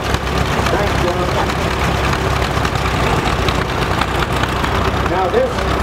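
An antique tractor engine runs steadily at a tractor parade in Arizona, its low mechanical rumble continuous and fairly loud throughout, with crowd and announcer voices mixed in over the engine noise.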